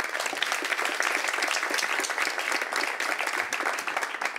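Dense, continuous applause from an audience at a televised debate on recruiters and local diplomas, a steady wash of clapping that fades slightly at the end.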